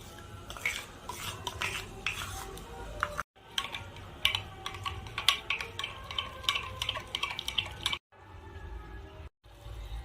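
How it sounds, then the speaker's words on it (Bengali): Sour yogurt (curd) being whisked in a bowl: quick, rhythmic clinks and scrapes of a utensil against the bowl, in close bursts with brief pauses and no talking. "এখন আমি টক দই ফেটিয়ে নেব।"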